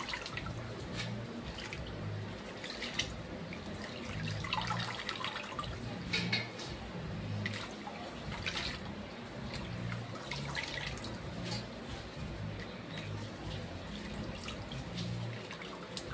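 Radish greens being washed in water, with a steady, continuous splash and trickle as the leaves are rinsed clean of sand, running close and moderately loud throughout with no talk.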